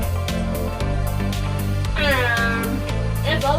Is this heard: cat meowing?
yes